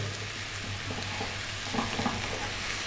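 Turkey sizzles steadily as it is stir-fried in a hot pan, with a constant crackling hiss and a few soft scraping stirs near the end.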